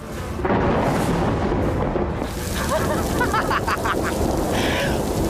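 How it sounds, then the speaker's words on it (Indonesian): A loud thunder crash rumbles through a dramatic scene, a heavy sustained boom that starts abruptly and rolls on, with a shouting voice and other noises layered over it. "Ngancem pakai petir, ha? Gua nggak takut sama petir!"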